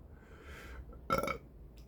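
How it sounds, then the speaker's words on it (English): A single hot, breathy burp after eating a Kiwi Hellfire chilli pepper, close to the mic and brief, bursting out after a quiet breath. "That's a hot burp."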